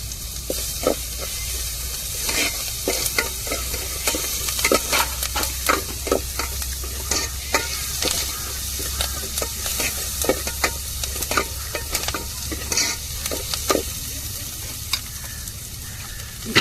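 Curry leaves and garlic sizzle and crackle in hot oil for a coconut milk rasam, a steady frying hiss broken by frequent sharp pops and stirring scrapes throughout.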